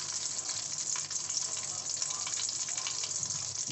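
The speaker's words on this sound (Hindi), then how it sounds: "तेल हमारा गर्म हो चुका है, इसमें हम लाल मिर्च डालेंगे साबुत" Whole dried red chillies dropped into hot oil in a home kitchen, giving a steady, dense sizzle that stays loud and close throughout with no talking.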